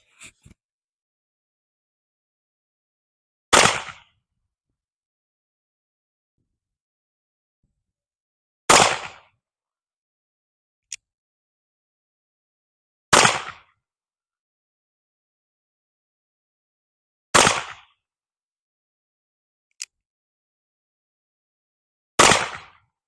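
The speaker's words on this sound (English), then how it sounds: "Shooting playing cards with my trusty 1851 Navy, my favorite little match gun" An 1851 Navy revolver fires at playing cards, with five sharp, loud shots spaced several seconds apart across a quiet stretch, plus a few faint clicks between them.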